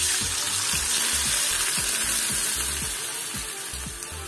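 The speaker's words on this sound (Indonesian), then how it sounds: "Ini udah aku tumis untuk bumbunya" Spice paste for a soto-style soup sautés in a pan with a dense, close sizzle and a quick run of rhythmic stirring taps that eases off toward the end; nobody speaks.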